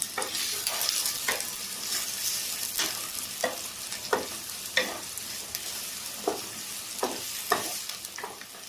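Chopped onions with a spoonful of salt are stirred in a hot pan for egg pulusu, a steady sizzle of frying under repeated scraping spoon strokes at a regular rhythm, close and fairly loud.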